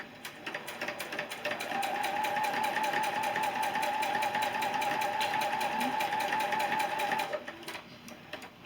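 Sewing machine stitching seams on a quilt block, a steady close whirring drone that runs continuously for several seconds, then stops.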